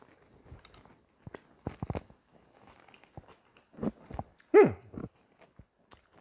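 Close-up chewing of pulled banana peels cooked in barbecue sauce to look like shredded meat: scattered soft, wet bites and crunchy chews with short pauses between them, in an otherwise quiet room.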